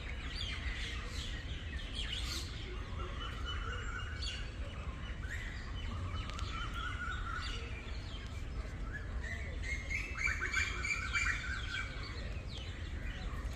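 Birds chirping and singing on an early spring morning, many faint tweets and calls scattered over a steady low rumble of background noise, distant and soft throughout.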